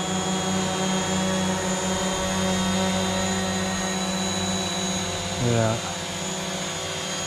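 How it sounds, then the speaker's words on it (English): A drone hovers steadily outdoors in a canyon, giving a continuous loud buzzing whine with a short pitch swoop near the end, and a voice briefly speaks over it. "Here's my drone. Flying my drone."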